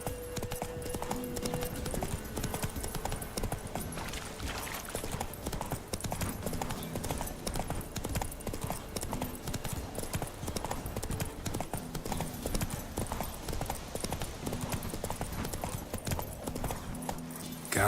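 Horse hooves galloping at a fast steady rhythm across ground in The Witcher 3, the horse Roach ridden continuously with a dense clip-clop that stays loud and close throughout, with a faint whinny.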